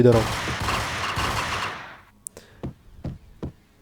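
A rapid burst of gunfire in the PC video game Max Payne, then several separate sharp shots ringing out at uneven intervals.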